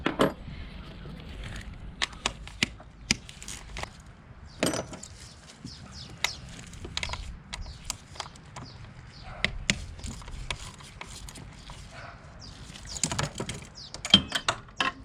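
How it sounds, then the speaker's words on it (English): Ratchet clicks and metallic clacks while undoing the bolts of an EGR valve on an Alfa Romeo or Fiat engine, sharp irregular ticks and knocks close by over a low background rumble. "And there goes my ratchet."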